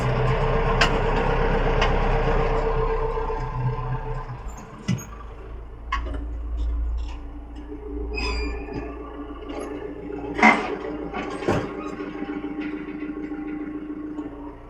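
Chinese Z mini tractor pulling a Taarup 24RK seeder, reversing in a field: steady low engine drone with scattered clanks and knocks, moderately close, no talk.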